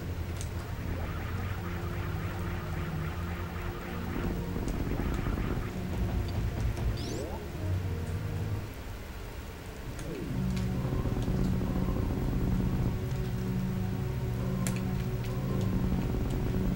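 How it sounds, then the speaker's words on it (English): Heavy rain in the video game Super Metroid: Project Base pours as a dense, continuous hiss layered with game music and low rumbles, staying loud throughout. "it's raining pretty heavily."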